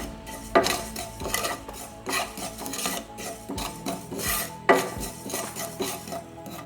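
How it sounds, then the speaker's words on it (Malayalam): Cumin seeds dry-roasting in a pan while being stirred make repeated close scraping and rasping strokes of a spoon against metal, with a few louder sweeps among softer rustling. "ജീരകത്തിൽ നിന്ന് കുറച്ച് ജീരകം എടുത്തിട്ട് ഒന്ന് ചൂടാക്കിയെടുക്കുക."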